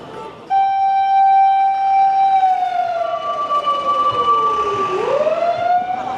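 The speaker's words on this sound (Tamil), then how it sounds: "தீயணைப்பு வாகனம் போது அதுக்கு பின்னால் ஆம்புலன்ஸ் போகிறதுக்கு ரெடி ஆகுது" A fire engine siren wails loud and close on an Osaka street, its long steady tone sliding down and back up near the end, with an ambulance following behind and no voices over it.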